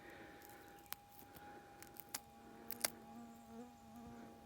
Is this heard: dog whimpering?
no